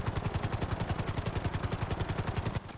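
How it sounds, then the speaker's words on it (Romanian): A helicopter in the video game GTA thumps with fast, even rotor beats over a loud engine roar, steady and close, briefly dropping in level at the very end. "mi-e frică rău, e prima dată cu elicopterul."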